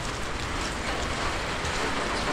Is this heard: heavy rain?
yes